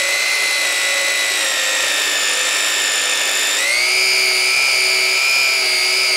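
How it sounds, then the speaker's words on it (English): A drill with a Forstner bit whines loudly and continuously up close, its pitch shifting upward partway through as the bit works through the wood. "I'm gonna use a Forstner bit, and I'm just gonna drill through here"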